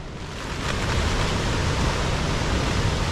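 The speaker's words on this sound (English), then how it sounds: "It's really windy out there and it's raining as well now." Strong wind and rain roar steadily outside a tent pitched by the sea at Smugglers Cove in Wales, a dense, loud rush that swells slightly and carries no voices.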